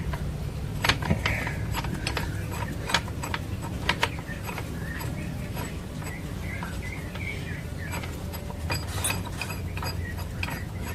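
Shock absorber support bolts on a Toyota Soluna being tightened with a ratcheting tool, a steady run of close mechanical clicks and ticks over workshop background noise, with faint birdsong in the background.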